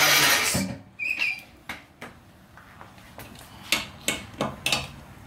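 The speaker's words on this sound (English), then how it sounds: "And then finish tightening the lug nuts." Lug nuts on a 1993 Suzuki Carry wheel are tightened with a wrench: a scatter of sharp metallic clicks and taps close by, ending in a quick run of four distinct knocks, no speech.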